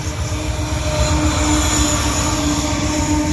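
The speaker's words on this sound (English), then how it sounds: "You hear the noise? That was dynamic brakes." A freight locomotive's dynamic brakes give a steady, loud mechanical roar with a whining tone, heard close by against continuous rolling rail noise.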